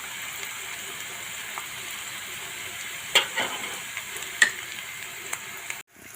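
Chopped onions with a spoonful of turmeric sizzle steadily in hot oil in a pan, a constant close crackling hiss broken by a few sharper pops and spoon clicks before it cuts off.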